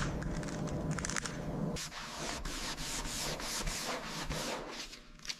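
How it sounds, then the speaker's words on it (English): Rough, rhythmic sanding strokes scrape back and forth across a primed Chrysler car body panel, close and steady, with brief pauses between passes. "Sanding again."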